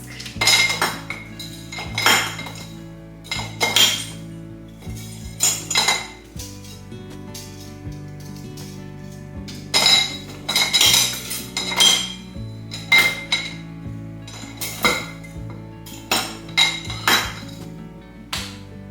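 Kitchen utensils, including wooden spoons, soup spoons and a whisk, being handled and sorted, with repeated close metallic clinks and clatters in irregular bursts throughout.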